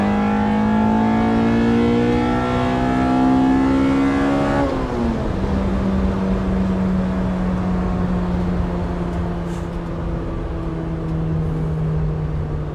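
A B18C-swapped 2000 Honda Civic Si climbs through the revs in third gear toward redline, a loud, rising engine and induction howl that shifts near the middle and then carries on steadily at a high pitch.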